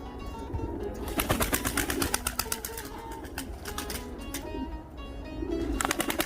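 Pigeons in a loft, among them a white crested bird and blue originals, coo in low murmuring bursts while sharp clicks and wing flutters sound throughout, steady and close.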